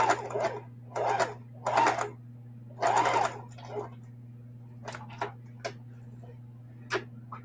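A home sewing machine stitching fabric for handmade gifts, heard as several short bursts of rapid mechanical whirring, with brief pauses and faint clicks between them over a steady low hum, close by.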